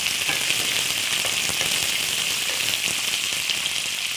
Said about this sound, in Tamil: இது நல்லா பொரிஞ்சிடுச்சுங்க. வெங்காயம் போட்டுக்கலாம்.